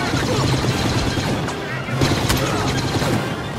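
Blaster fire from the Star Wars Battlefront video game on the Hoth map, a dense, loud stream of rapid shots and crashing impacts that runs continuously for the whole stretch.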